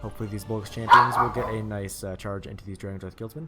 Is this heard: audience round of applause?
no